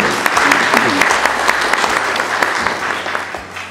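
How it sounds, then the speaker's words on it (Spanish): Audience applause at a lecture on the pleasure of writing, dense steady clapping from a gathered crowd with a few sharper individual claps, without voices. "Recibamos con fuertes palmas a Jorge Pereira Torres."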